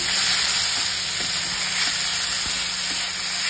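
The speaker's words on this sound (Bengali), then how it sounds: "ভালো করে নেড়ে নেব।" Chopped banana stem with cumin, sugar and green chilli frying in a pan while being stirred, a continuous loud hiss and sizzle with a few soft scraping knocks.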